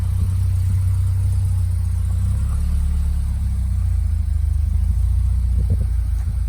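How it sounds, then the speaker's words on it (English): A Pinto engine in an old 2000E car runs at a steady idle, giving a continuous low, close rumble for the whole stretch with no voices. "A nice sounding Pinto."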